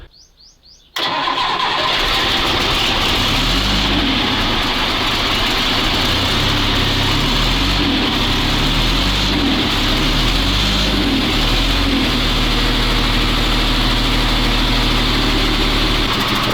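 A Magirus 4x4 truck diesel engine cranks briefly and catches, then settles into a loud, steady idle with a deep rhythmic chugging that continues unbroken to the end.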